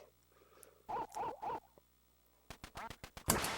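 Three quacks from the ducks in the NES light-gun game Duck Hunt, evenly spaced and loud, followed by a quick patter of gunshot-like bursts and sound effects.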